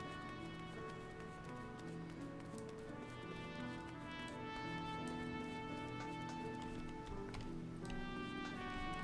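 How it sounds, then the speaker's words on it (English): Rhythmic horse hoofbeats clip-clop steadily in Final Fantasy XIV over a dense bed of game music and ambience, moderately loud and continuous. "Horse noises, horse noises."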